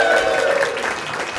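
Brief applause from a comedy club audience, a dense, steady spatter of clapping with faint voices beneath.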